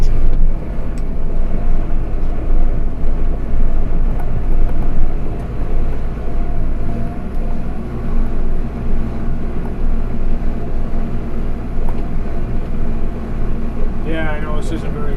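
A truck plowing snow in four-wheel drive low range gives off a loud, steady low engine and drivetrain rumble, close and continuous, with a brief rising whine near the end.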